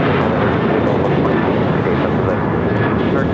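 A Boeing 737-800 jet airliner at LAX roars steadily and loudly throughout, a dense broadband engine rumble with faint talk mixed underneath.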